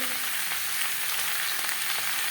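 Potatoes fry in hot oil for a rui fish curry, giving a dense, even crackling sizzle that holds steady and close throughout, with no voices.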